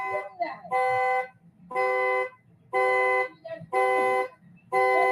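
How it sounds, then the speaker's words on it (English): A car alarm blares in steady, evenly pulsed tonal bursts, five loud blasts about a second apart with short gaps between them, while a voice is faintly heard in the pauses. "The car just going off on its own, right?"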